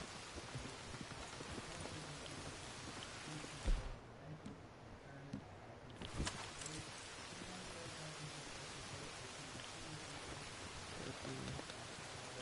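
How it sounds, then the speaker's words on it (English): Steady rain in Red Dead Redemption 2, a dense continuous hiss of falling drops with a brief dip and a couple of soft thumps, no voices over it. "But I do like me some rain."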